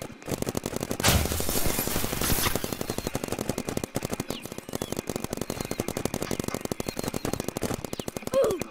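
Rapid, steady streams of paintball gun shots in the Roblox game Big PaintBall, dense clicking pops running continuously throughout, with a brief burst of louder noise near the start.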